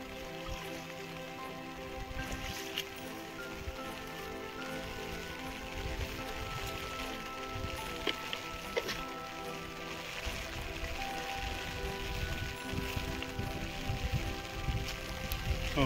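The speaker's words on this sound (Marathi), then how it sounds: "मस्तपैकी पाऊस चालू झालेला आहे." Rain falling on a rice field on a farm, a steady faint patter of drops spread evenly, heard from a distance with no voices.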